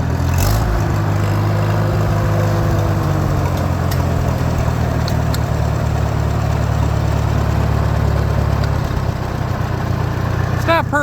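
Farmall H tractor engine idling after a throttle adjustment, a loud steady low rumble running close throughout, with a brief rise in the middle and slight shifts near the end.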